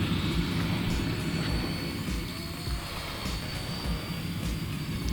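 An XK K124 EC145 scale brushless RC helicopter flies nearby, a steady whirring buzz of rotor and motor with a high whine, holding fairly constant loudness and rising slightly at moments, with no talk.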